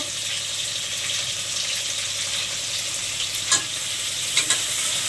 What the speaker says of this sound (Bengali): রসুন দুটো আস্ত রসুন আমি ছাড়িয়ে নিয়েছি এগুলো দিয়ে দেবো ওর সাথে রসুন বাটাটাও দিয়ে দেবো